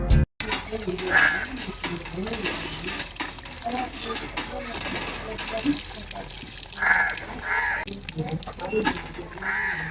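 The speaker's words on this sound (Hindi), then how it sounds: "कौवे कोई गेस्ट लाना चाह रहे हैं, इतने ज्यादा हैं" Crows cawing repeatedly in a village, harsh calls rising in short bursts over a busy outdoor background of running water and people talking throughout.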